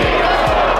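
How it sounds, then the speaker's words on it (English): Crowd cheering for the Missouri Tigers, a dense, loud roar of many voices held steady throughout with no break. "Let's cheer on those Missouri Tigers."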